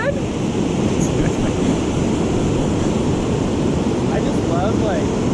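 Ocean surf and wind at Ocean Beach, San Francisco, a constant broad roar of breaking waves with gusty wind noise on the microphone.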